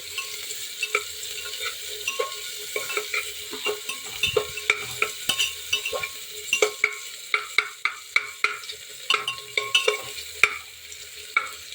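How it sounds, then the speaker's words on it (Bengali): Sliced onions fry in hot oil in a pan, a steady close sizzle broken by frequent sharp clinks and scrapes as a spatula stirs them, with no talking. "স্লাইস করা পেঁয়াজগুলো আমি তেলের মধ্যে দিয়ে দিচ্ছি। ভালো করে পেঁয়াজটা নেড়ে চেড়ে বাদামি করে নেব।"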